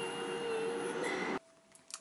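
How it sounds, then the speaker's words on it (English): A train rushes past in Japan, a loud sustained roar with a faint squealing tone that cuts off abruptly after about a second and a half, leaving near-silence with a few small clicks. "There goes the train."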